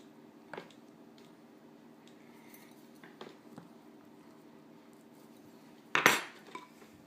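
A metal fork presses a pattern into Assyrian kadeh pastry dough, giving a few soft, close taps and scrapes against a quiet kitchen background, with one louder clinking scrape near the end.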